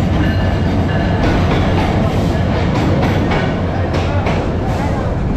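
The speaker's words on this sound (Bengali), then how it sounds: "2 ঘন্টা লেটে আমাদের ট্রেন পৌঁছাইছে," A passenger train pulls into Airport railway station in Bangladesh, running two hours late. A steady, loud rumble of rolling wagons and wheels carries through the whole stretch, with faint voices on the platform.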